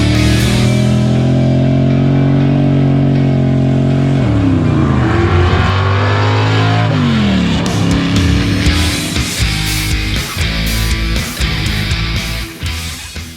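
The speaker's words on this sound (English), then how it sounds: "a 634 horsepower 70 Dodge Charger" A ratty 1970 Dodge Charger with a 634 hp engine and a four-speed manual drives by, its loud, deep engine droning and climbing in pitch through the gears before fading at the end.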